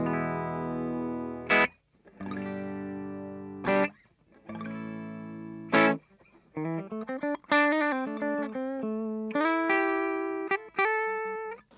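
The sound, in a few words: clean electric guitar tone through amplifier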